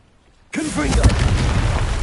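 The Confringo fire spell exploding in Hogwarts Legacy, silence and then a sudden loud booming burst that rolls on as a dense rumbling roar, with a voice briefly mixed in.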